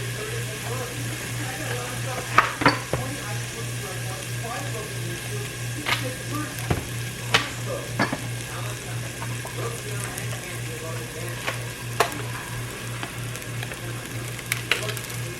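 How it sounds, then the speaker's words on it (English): Garlic sizzling in a pan on a stovetop burner as ground turkey soup is started, a steady frying hiss with scattered sharp clinks and scrapes of stirring, close and moderately loud. "So we're gonna toss our garlic around. Turn our burner back on."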